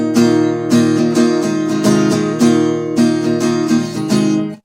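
Acoustic guitar strumming the intro of a song, steady rhythmic chord strums with clear attacks, played alone and close.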